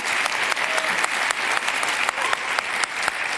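Conference audience applause at a freedom forum, a loud, continuous round of many hands clapping with a few sharp individual claps standing out.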